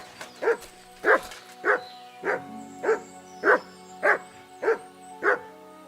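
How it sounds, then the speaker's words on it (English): A dog in the medieval video game Kingdom Come: Deliverance II barks about nine times in a steady, evenly spaced rhythm, moderately loud against a quiet background hum. "Sit and bark."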